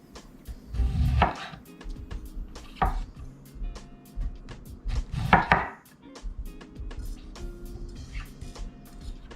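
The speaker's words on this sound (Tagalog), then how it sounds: "hiniwain na natin tong labanos" A knife chops through radish on a board while preparing sinigang, sharp uneven knocks spaced a second or two apart, with faint ticking and handling noises in between, close and fairly quiet.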